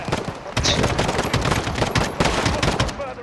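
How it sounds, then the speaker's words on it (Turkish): AK-47 style rifle fire in Call of Duty: Modern Warfare (2019) comes in dense, loud automatic bursts, one rapid shot after another with almost no pause, close and harsh for about three seconds. "Silah öyle bir sekiyor ki. AK-47 tarzı işte."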